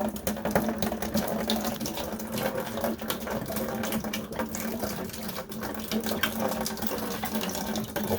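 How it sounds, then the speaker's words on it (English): Dirty, sediment-laden water draining out of a residential water heater tank, a steady rushing and splashing flow that runs continuously and fairly close throughout, with no talking. "I'm going to drain about, probably 3 or 4 gallons out of the tank"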